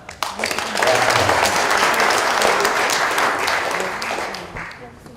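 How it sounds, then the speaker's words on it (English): Audience applauding a public health and climate change professor at an Asia Pacific public health conference panel in Viet Nam, a dense, steady burst of many hands clapping that swells quickly and holds for several seconds before tapering off. "We gave her a big applause."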